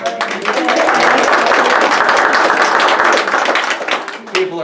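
Church congregation at a Bible study claps together, a dense sustained burst of many hands for about four seconds, with voices mixed in and fading at the end.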